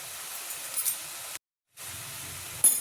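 Mustard and turmeric paste goes into a hot pan of drumstick flowers and sets off a steady, soft sizzle and hiss, with a brief silent break midway and a small clink near the end.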